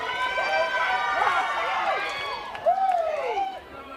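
Crowd cheering at a softball grand final, Giants versus Tigers, a busy roar of many voices with shouts and whistles rising and falling, loud and sustained throughout.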